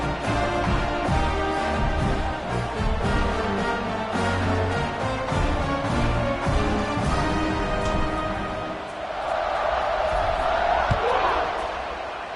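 A packed college football stadium crowd at a Penn State game roars continuously before kickoff, a dense, loud, sustained wash of cheering with music-like tones underneath, swelling again toward the end.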